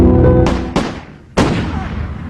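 Three loud, sharp gunshots ring out in quick succession at night in Amityville, each a heavy boom with a long echoing decay, close and dominant.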